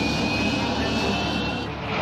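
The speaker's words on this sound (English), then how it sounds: "The British Harrier jump jet. It was a unique aircraft in the 1980s, the only one we had capable of vertical takeoff and landing." A British Harrier jump jet, the 1980s vertical takeoff and landing aircraft, roars with a loud, steady jet-engine drone that holds nearly constant for the short stretch, with no voices over it.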